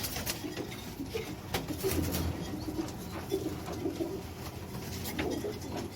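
Pigeons coo softly and repeatedly close by, with occasional wing flaps and rustling against a low background hum.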